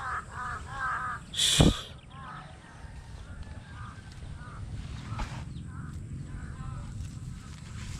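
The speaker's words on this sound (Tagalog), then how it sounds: "daming uwak ah" Several crows caw in harsh bursts at a distance, with one loud sharp call, over a low outdoor background hum.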